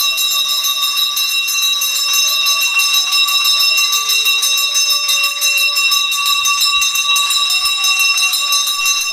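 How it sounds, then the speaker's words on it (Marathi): A bell at the Mahalakshmi temple in Kajarghati, Ratnagiri rings loudly and steadily, its bright metallic tone sustained and echoing throughout with no voices. "शांततेमुळे घंटेचा घंटानाद घुमघुमत होता"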